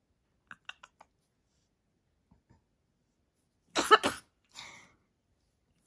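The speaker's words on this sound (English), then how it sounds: "That's a fake cough." A dog gives a short, sharp fake cough, a quick double burst close by in a quiet room, preceded by a few faint clicks and followed by a softer breathy huff.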